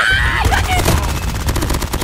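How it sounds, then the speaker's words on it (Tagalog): Rapid automatic gunfire in a shooting video game, dense and loud, crackling in fast continuous bursts that run through the whole stretch. "Nasa na isang bumabaril sa akin, pre."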